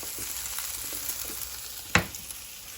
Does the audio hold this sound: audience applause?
no